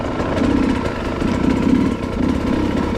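A new hard enduro motorcycle crawling in second gear over rough ground gives a steady, chugging engine drone with a low, pulsing beat and slight swells, close by and with no talk over it.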